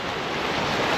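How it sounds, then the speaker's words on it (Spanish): Caribbean sea waves on the Mexican coast make a continuous, broadband wash of surf that is loud and steady throughout, with no voices. "Es agua del Caribe, Madi. Agua. Agua caribeña"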